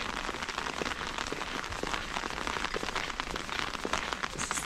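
Rain falls steadily at a lakeside campsite near Derwent Water in Keswick, a dense, even patter of drops on surfaces, close and continuous with no talking.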